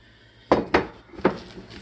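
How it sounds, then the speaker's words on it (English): A whisk clinks against a bowl while blending orange juice into powdered sugar glaze, with three sharp, close taps spaced unevenly over a quiet background. "Sorry, I gotta really whisk it"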